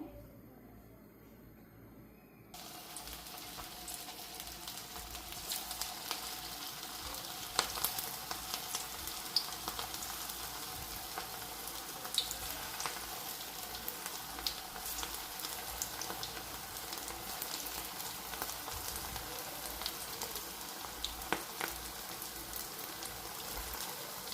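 Jowar, oat and potato nuggets frying in hot oil, a steady dense sizzle that jumps louder a few seconds in as a new batch goes in, then holds even and close with no talking.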